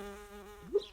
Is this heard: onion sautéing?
no